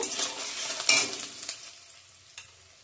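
Spice paste drops into onions and ginger frying in a pan, setting off a bright burst of sizzling with a stir, and the hiss then fades quickly to a quiet simmer.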